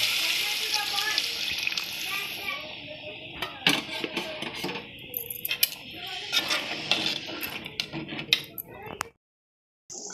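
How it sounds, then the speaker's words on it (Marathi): Hot water pours and sloshes into a pan of roasted masoor dal with a steady gush, followed by scattered metallic clinks and scraping of utensils. "आता आपण ह्याच्यात थोडंसं गरम पाणी घालून घ्यायचं आहे"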